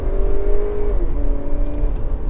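An Opel Insignia GSI with a 260 hp engine and eight-speed automatic transmission accelerates, giving a steady, loud engine drone that rises in pitch, drops briefly at a gear change, then climbs again.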